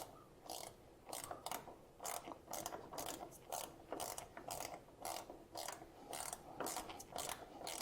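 A hand ratchet clicks in rapid, evenly spaced bursts while turning a bolt during installation of a GM 3.6L engine in an SUV, close and fairly quiet, with no talking.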